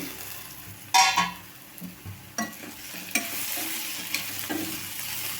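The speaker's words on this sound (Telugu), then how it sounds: "మధ్య మధ్యలో కలుపుతా సాఫ్ట్గా అయితే ఉడికించుకోవాలండి" Onions softening in a covered pan for egg puff filling, steady frying sizzle with intermittent spoon stirs and scrapes against the pan, close and continuous without speech.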